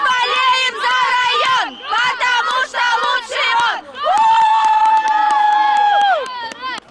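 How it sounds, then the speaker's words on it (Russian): Hockey fans in the stands at an ice rink yell and chant in loud, rising bursts, with one long sustained group cry near the end, close and crowded. "За жаркими баталиями на льду напряженно следили болельщики. Они как могли поддерживали свои команды."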